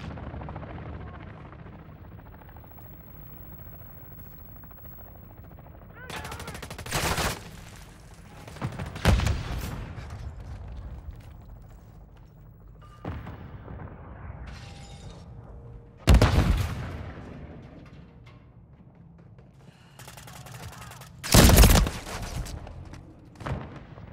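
Gunfire in a team deathmatch round of a military shooter: several loud, sharp bursts and single blasts break out at irregular intervals over a low, constant rumble of background battle noise, with no talk.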